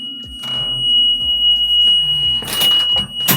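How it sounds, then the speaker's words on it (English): A school bus emergency door alarm sounds a steady, piercing high-pitched tone continuously, alongside clunks and rattles of the heavy rear emergency door being opened and moved nearby. "Opening the back emergency door, we want to make sure the alarm comes on."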